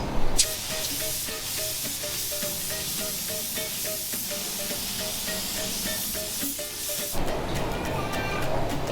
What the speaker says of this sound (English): I'm gonna spray my first coat kind of light, basically a dust coat